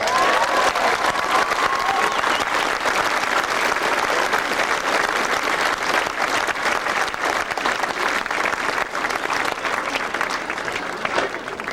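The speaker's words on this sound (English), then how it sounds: "I'd like to give a big round of applause for John Davis, please." Big, sustained applause for John Davis at a gathering after the 1993 All-Ireland B Hurling Final between Meath and London: dense, loud clapping from a large crowd, steady and unbroken from start to finish.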